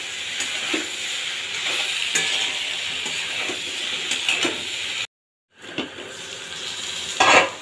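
Cauliflower stems and small prawns being stirred with turmeric and chili powder in a frying pan, giving steady close sizzling and scraping that pause briefly before resuming.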